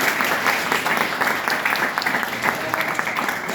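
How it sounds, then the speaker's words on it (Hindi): Audience applause for student actors after a college drama department's stage production of the play Kanjoosh: a dense, continuous wash of clapping from a crowd, loud and even throughout with no pauses. "एक बार जोरदार तालियां बच्चों के लिए।"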